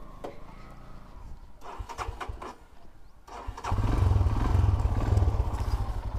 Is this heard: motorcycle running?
yes